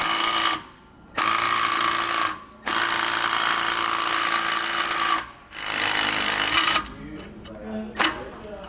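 A power tool runs loud and close while nuts and bolts are tightened with a socket on a rear anti-sway bar install on a 2018 Forest River. Long continuous whirring stretches are broken by brief pauses, then ends in short clicks.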